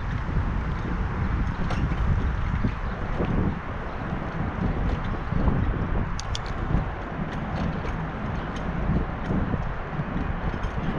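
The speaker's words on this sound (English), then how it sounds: "Can't hardly hear it in the wind." Strong wind buffets the microphone outdoors on a city street, making a loud, continuous rumbling roar that fills the whole stretch, with no clear voices above it.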